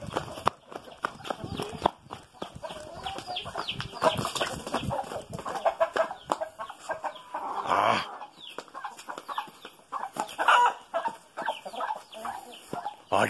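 Hen clucking amid a busy rural soundscape with other fowl and hoof-like clopping, intermittent and fairly close, with a person talking over parts of it.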